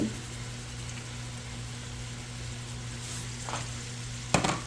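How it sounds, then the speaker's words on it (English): Seasoned food sautéing in a pan with complete seasoning, Creole seasoning and parsley, giving a faint, steady sizzle close by and a brief clatter near the end; no one speaks. "I'm just going to let all this saute together."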